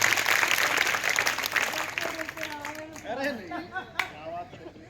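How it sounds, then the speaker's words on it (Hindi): A crowd at a magic show in a girls' school gurukul gives a volunteer a hearty round of clapping, strong at first then thinning out as a voice talks over it. "सर के लिए एक बार जोरदार तालियां हो जाए।"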